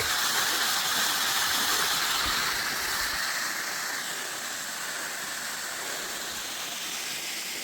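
Small waterfall beside the Kjerratstien hiking trail in Norway, a steady close broadband rush of falling water that continues unbroken and slightly eases after a few seconds, with no voices.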